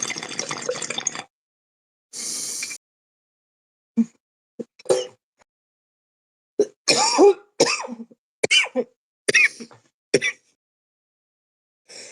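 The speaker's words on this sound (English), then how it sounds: "Me coughing for a second." Several short coughs and throat-clearing sounds come close up, separated by silences, mixed with small liquid plops and handling noises.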